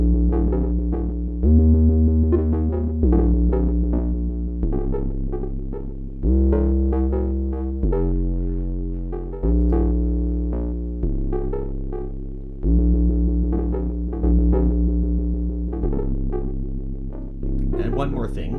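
An Arturia MiniBrute 2 analog synthesizer plays a repeating sequence of deep, buzzy notes, each sharply attacked and slowly decaying, in a steady rhythmic pattern.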